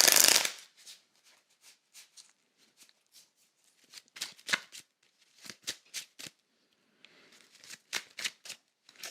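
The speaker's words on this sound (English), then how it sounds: "I'm going to shuffle" Tarot cards being shuffled by hand, a burst of riffling at the start followed by a steady series of crisp, close snaps and flutters in irregular clusters, with no talk.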